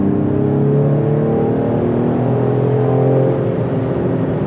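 Synthetic engine sound piped through the cabin speakers of a Ford Explorer ST, a steady droning rumble with layered tones rising and falling as if revving, continuous and fairly loud with no talking.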